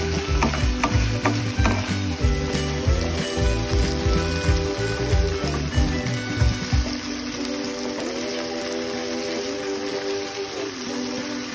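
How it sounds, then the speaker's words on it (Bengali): Chilli chicken with tomato sauce being stirred in a pan: close, steady scraping and stirring over a continuous sizzle, busier in the first half and then settling into a steady fry. "আবার একটু নেড়ে চেড়ে নেব ভালো করে"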